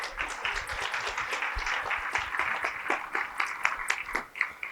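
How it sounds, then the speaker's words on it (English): An audience at a university commencement ceremony gives a round of applause, steady, moderately distant clapping from a crowd that rises and thins out over a few seconds with no talking. "To give a round of applause for Dr."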